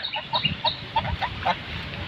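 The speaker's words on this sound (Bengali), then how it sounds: "কি সুন্দর দুইটা রাজা হাঁস" Two raja hans ducks call near a pond where a China net is being hauled for fish, a rhythmic series of nasal honks repeating every fraction of a second, close and clear.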